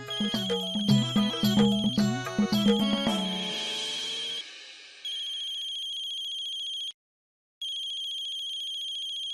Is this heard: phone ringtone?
yes